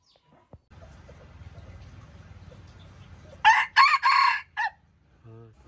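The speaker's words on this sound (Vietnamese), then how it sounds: "Con gà rất thuần mọi người, rất đẹp, rất thuần, rất sung nhá." A rooster crows loudly in several short, bright bursts after a few seconds of low, quiet background rumble, followed by a brief softer cluck at the end.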